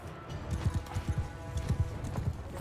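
Horse hooves clip-clop in a steady uneven rhythm during a Mount & Blade II Bannerlord battle, close and moderately loud over a low background rumble, with a few paired strikes repeating across the stretch.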